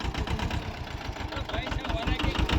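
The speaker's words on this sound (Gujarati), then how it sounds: "સુવાસ ઊંઘવા માટે સ્પેશિયલ ટ્રેક્ટર લઈને આવ્યો ખેતરમાં" A tractor engine runs on a farm field at night with a steady, close, rumbling chug, and voices are heard faintly over it.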